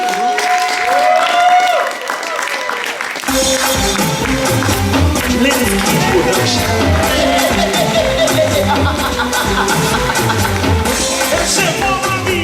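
An audience claps and cheers for a woman stepping out at a behind-the-scenes movie event, the applause rising into a steady, dense, loud wash that carries on without a break.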